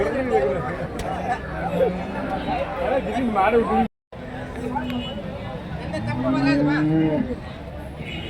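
Cattle and calves moo repeatedly at a busy outdoor cow market in Karimangalam, Dharmapuri district, with long low calls rising over steady crowd chatter and background hubbub.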